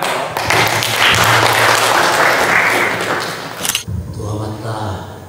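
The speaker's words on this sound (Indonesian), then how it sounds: "Kita tepuk tangan." Audience clapping for a man being introduced at a gathering, a dense sustained burst that swells quickly and holds steady before stopping abruptly, followed by a speaker's voice.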